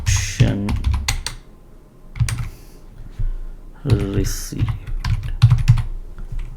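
Rapid computer keyboard typing while code is entered during programming, coming in clustered bursts of clicks with a person talking over and between them.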